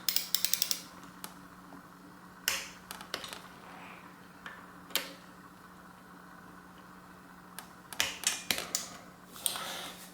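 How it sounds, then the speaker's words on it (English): Bolts being torqued down on an RST Gila Pro bicycle suspension fork: quiet, close-up bursts of ratcheting clicks and small metallic creaks in irregular clusters, separated by near-silent pauses. "And then I want to torque them down to about 70 to 90"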